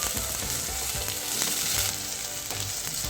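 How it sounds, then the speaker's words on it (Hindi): Sliced capsicum frying in hot oil in a pan for a noodles and macaroni dish, a loud, continuous close-up hiss with a few soft stirring knocks, no talking. "ये भी इसमें डाल दूँगी और इसको भी थोड़ा सा हम फ्राई होने देंगे।"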